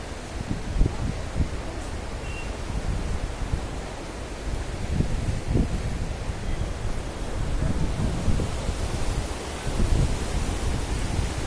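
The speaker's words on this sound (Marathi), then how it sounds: "किती जोरात ती नदी वाहत आहे" The Indus River in Kashmir rushes fast, a continuous broad roar of churning water with wind buffeting the microphone, steady and loud with no voices.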